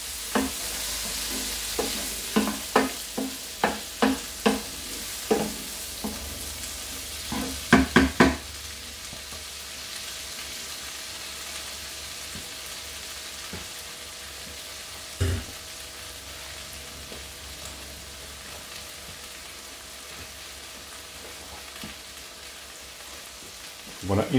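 Mixed vegetables of peas, sweet corn and beans frying in butter in a pan, with a soft steady sizzle and a burst of sharp stirring scrapes early on, then quieter frying with an occasional clack.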